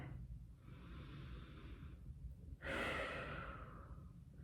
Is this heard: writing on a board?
no